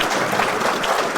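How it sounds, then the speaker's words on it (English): A crowd at a graduation ceremony claps in a steady, dense round of applause, loud and close, with no talk over it. "can we get a round of applause"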